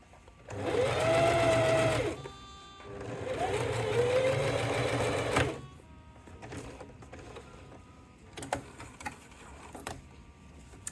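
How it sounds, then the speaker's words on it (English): A sewing machine runs in two sustained bursts while reverse stitching around a wine bottle gift tote, then stops, leaving faint handling clicks and rustles of the fabric. "reverse stitch, follow that line all the way around, reversing where you start"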